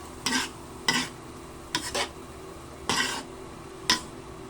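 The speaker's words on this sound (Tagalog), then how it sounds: "Haluin lang natin ulit" Macaroni elbows in white sauce being stirred in a pan, each stroke giving a short scraping swish, six or so quick strokes at an uneven pace with a faint sizzle underneath.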